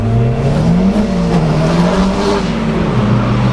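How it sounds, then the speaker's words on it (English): A Lancia Stratos race car rounds a hairpin at a lakeside hillclimb, its engine droning loud and steady with a wavering pitch as it holds revs through the bend, close by and with no talk over it. "We've got that beautiful Lancia Stratos of Trent Brand now making its way around the hairpin"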